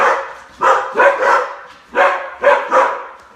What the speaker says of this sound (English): Never do a video with your dogs out because, as you can see, they're still barking